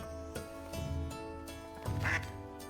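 A duck quacks in the video game Soulframe, a few soft, brief calls standing out over a steady droning game soundscape.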